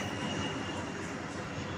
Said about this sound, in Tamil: ஹெலிகாப்டர் போய் பாருங்க